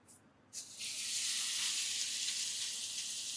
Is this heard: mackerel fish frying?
yes